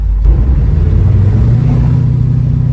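A 482 Oldsmobile V8 running in a 1971 Cutlass while driving, a loud, close, steady low rumble with no talk.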